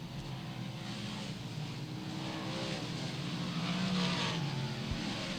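358 modified race cars running a 100-lap race, roaring around the track as a steady, continuous wall of engine noise with a slight swell as the pack passes.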